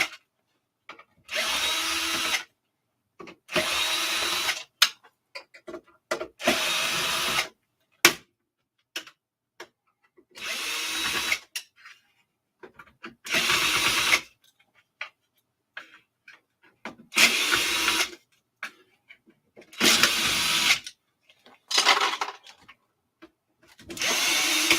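A power screwdriver backs screws out of a TRS-80 Model 4P computer case in repeated whirring bursts of a second or two, separated by quiet pauses with faint handling clicks, close and clear.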